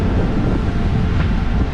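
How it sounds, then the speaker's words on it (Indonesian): Strong wind blowing on an Aceh shore beside a stranded wooden Rohingya boat: a loud, steady rushing roar with heavy buffeting on the microphone, continuous for the whole stretch, with no voices. "cuacanya lagi kurang bagus. Angin kencang."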